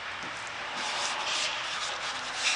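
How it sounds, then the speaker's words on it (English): A vinyl decal is rubbed and smoothed onto a pickup truck bed, producing a soft, continuous brushing and rubbing hiss that swells slightly in the middle. "He just smooths it right into place."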